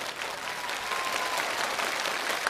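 Studio audience applauding at a televised challenge show honoring two top banknote counters, a steady dense wash of clapping that fills the whole stretch with even loudness.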